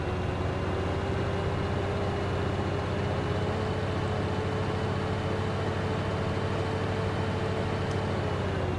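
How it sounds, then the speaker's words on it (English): Trucks in the video game Farming Simulator 2013 on a modded Idaho map give a steady, even engine drone with a faint constant hum, unchanged for the whole stretch, with no talking. "Oh, I got trucks piling up everywhere."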